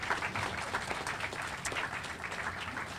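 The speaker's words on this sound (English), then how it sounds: "Give him a round of applause." A crowd at a Waterbury, Connecticut public event with the governor applauds the fire chief: steady, dense clapping that runs evenly throughout at a moderate distance, with no voices over it.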